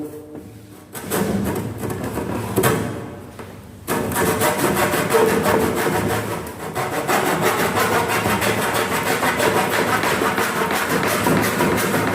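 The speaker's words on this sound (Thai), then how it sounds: "นี่ครับเลื่อยมือครับ" A hand saw cuts through wooden wall trim molding in rapid back-and-forth strokes, rasping loudly and close by, with a short pause before the sawing resumes steadily.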